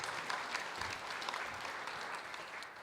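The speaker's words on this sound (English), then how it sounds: "let's give Dan one more round of applause" A conference audience applauds a speaker at a GNU Radio event, steady dense clapping at moderate distance that holds throughout and eases slightly at the end.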